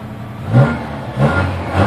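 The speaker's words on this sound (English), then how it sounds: "I'm going to go over and rev her up a little bit here." A 1966 Volvo 122S engine idling a little high gets two short throttle blips, each rev swelling and then falling back toward a rough, steady idle, recorded close by.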